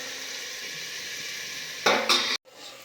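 Chopped tomatoes with turmeric sizzling in a pan for tomato chutney, a steady frying hiss, then a couple of louder stirring scrapes before a brief cutoff and the sizzle resuming.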